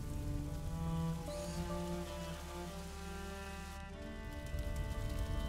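Steady rain patters and hisses in the video game A Plague Tale: Innocence, a soft, continuous wash under low sustained musical tones, with no voices.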